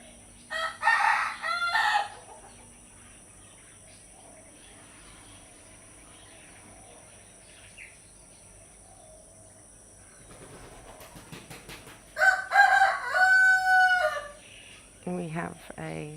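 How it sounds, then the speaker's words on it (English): Roosters crow in the morning alongside chickens and ducks, with two loud, close cock-a-doodle-doo calls at the start and near the end and quieter clucking and bird sounds between them. "we have a live cockerel orchestra this morning"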